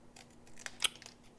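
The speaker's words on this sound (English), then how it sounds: "I'm just going to use my snips again and just trim around the sentiment" Small craft snips trimming around a paper sentiment, a few quiet, quick crisp snips close by, with no talking.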